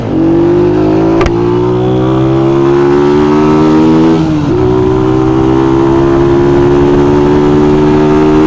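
A Kuba Çita, TVS Raider or Falcon FR177 motorcycle pulling away from a traffic light, its engine revving up loud and close, dipping for a gear change midway, then climbing again steadily.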